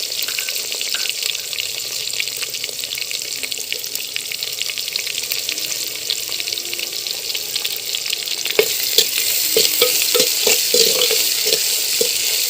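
Onions sautéing in a clay pot for a catla fish curry give a loud, steady hiss and crackle, with sharper stirring knocks toward the end and no one speaking.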